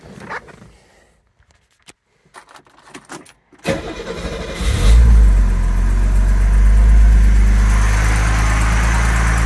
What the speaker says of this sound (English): This is a cold start video of the 69 Mercedes 280 SL.